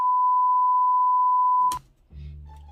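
A single loud, steady electronic tone holds for about a second and a half, then cuts off abruptly into a brief clatter and low rumble, like an alarm clock sounding.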